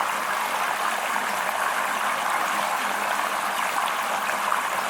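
Water from a 2,000 gallon-per-hour pump through 1 1/8 inch hose rushes down a recirculating gold sluice with silicone nugget traps, a steady close hiss of flowing, splashing water with no talk.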